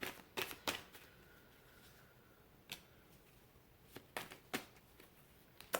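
Tarot cards being shuffled and drawn in a quiet room, a series of soft, crisp papery flicks and snaps arriving in scattered clusters with hushed pauses between them.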